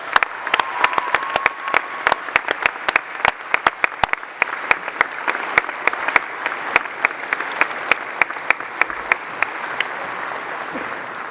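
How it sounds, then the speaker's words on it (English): Sustained audience applause fills a graduation ceremony hall, dense steady clapping with sharp individual claps standing out, continuous and fairly loud for about eleven seconds with no talking over it. "let's give them a round of applause again"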